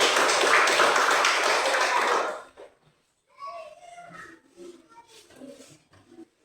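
Students in a classroom clap for a group, a loud dense burst of applause lasting about two seconds before stopping, followed by quiet children's voices and scattered chatter.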